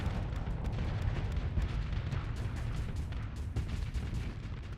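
Ship weapons auto-firing in the space game Starsector: a dense, continuous rumble of booming cannon and gunfire blasts with scattered sharper impacts over a heavy low roar.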